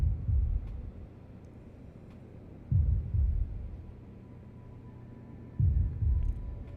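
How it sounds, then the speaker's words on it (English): Deep slow heartbeat of Azeroth in World of Warcraft, three low throbbing double thumps spaced about three seconds apart over a faint hum. "That's a heartbeat."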